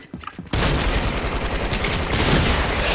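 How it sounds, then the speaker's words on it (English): Sustained light machine gun fire in a Fortnite-style shooter, a dense unbroken burst starting abruptly after a brief quiet moment and staying loud to the end. "Oh, now I've got an LMG."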